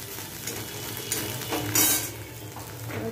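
An egg fry being stirred in a pan gives a steady close sizzle with scraping utensil strokes and a few sharper clinks.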